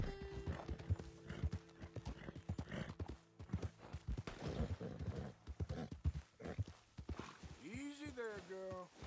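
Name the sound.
Arabian horse hooves clip-clopping in video game Red Dead Redemption 2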